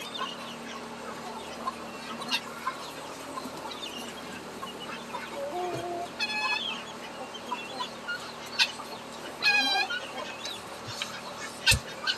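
Chickens clucking and squawking outdoors at feeding time with corn, scattered calls near and far, a few sharp louder squawks rising over steady farmyard background noise.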